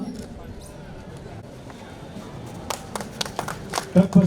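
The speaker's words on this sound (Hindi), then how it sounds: "एक बार जोरदार ताली" Applause builds at an Independence Day celebration ceremony at DVC Maithon: a few scattered claps swell into louder, denser clapping near the end, over a background of murmuring voices.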